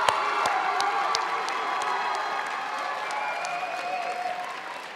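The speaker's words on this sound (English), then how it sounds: "turn to your family members and supporters and give them a round of applause for being here for you today" Graduates at a spring community college commencement ceremony applaud their families, a steady wash of clapping from a large crowd with scattered cheers and whoops, sustained at even loudness throughout.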